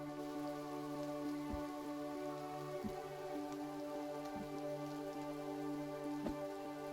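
Steady rain in the survival video game The Forest pours down as a constant hiss across the whole stretch, with a few low thuds from game sounds and steady droning tones in the background; no one talks.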